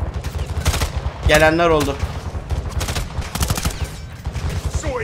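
Rapid bursts of automatic gunfire in Call of Duty Modern Warfare 2 crackle through a firefight, with a player talking over the shots and a brief whooshing tone in between.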